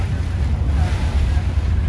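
Floodwater streams down a road around an ALn 663 railcar near Arezzo during heavy rain, a loud, unbroken rushing wash with wind buffeting the microphone.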